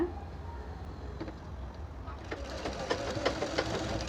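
A sewing machine stitches blouse fabric, a close, rapid mechanical whirring and clatter that starts softly and grows busier and louder partway through.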